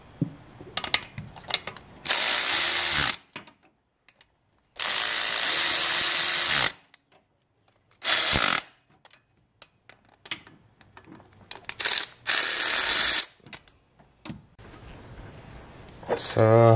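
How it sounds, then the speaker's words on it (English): Ratchet wrench tightening 10 mm bolts on a water pump of a 2002-2011 Toyota Camry 2.4L, heard as several bursts of rapid clicking, close and loud, separated by pauses with someone talking between them. "Then you have to tighten all the 10 mm bolts."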